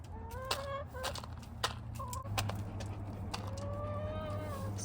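Chickens on a sheep farm cluck while eating corn, with repeated short close clucks and rising calls over a steady low background hum.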